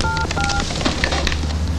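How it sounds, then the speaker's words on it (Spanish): A telephone number is dialed on a keypad, with a couple of short DTMF tones near the start over a noisy room with background rumble. "Discaste solamente 3 números."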